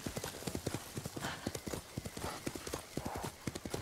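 Rapid, rhythmic horse hooves clip-clop while riding toward a lighthouse in the Ghost of Tsushima video game, a continuous galloping beat that stays close and even throughout.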